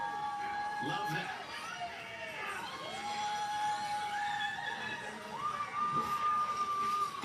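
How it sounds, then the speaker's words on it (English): Crowd at the X Games in Aspen cheering and whooping steadily, with shouts and high calls rising over a continuous roar throughout. "The crowd is geared up here at Aspen"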